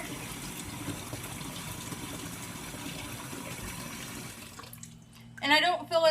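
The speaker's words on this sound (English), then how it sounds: "So right now I'm filling up my tank" Water runs steadily into a fish tank, a continuous rushing wash that fills most of the clip before cutting off, followed by a brief stretch of nearby speech.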